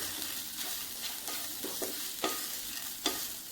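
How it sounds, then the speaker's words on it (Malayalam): A spatula stirs Kashmiri chili powder into a spinach thoran frying in a pan, with soft, steady sizzling broken by several brief scraping strokes, the last two a little sharper; no one speaks. "ഒരു അല്പം മുളക് പൊടിയും കൂടെ ചേർത്ത് കൊടുക്കുന്നു കാശ്മീരി മുളക് പൊടിയാണേ അതൊന്ന് ചേർത്ത് കൊടുത്ത് ഒന്ന് മിക്സ് ചെയ്യുക"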